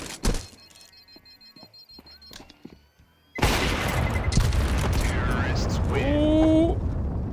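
Gunfire and heavy thuds in a professional Counter-Strike 2 match, Falcons against NAVI at IEM Melbourne 2025. The first half has sparse sharp hits, then a loud dense barrage takes over with crowd noise, and a commentator talks over it.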